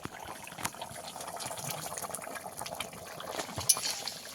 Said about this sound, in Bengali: এবারে ভেজে রাখা মাছগুলো আমি দিয়ে দেবো